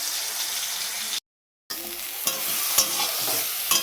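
Vegetables sizzling in a kadai on the stove as they fry and are stirred, a continuous hiss broken by scraping stir strokes, with a brief silent gap partway through.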